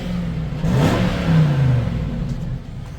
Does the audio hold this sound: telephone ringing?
no